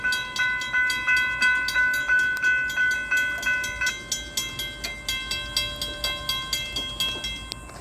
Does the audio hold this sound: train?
yes